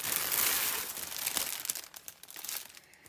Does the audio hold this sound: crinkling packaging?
yes